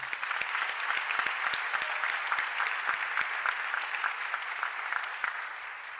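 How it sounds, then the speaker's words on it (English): A theater audience at the Wilshire Ebell Theater claps steadily in a sustained round of applause, a dense patter of hands with a few sharper individual claps standing out, fading slightly toward the end. "if I can hear a round of applause,"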